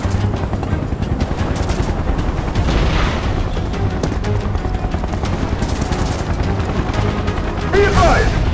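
Soldiers fire guns in the Final Fantasy VII Remake video game, a steady clatter of shots layered under shouting voices and game music, with a louder burst near the end.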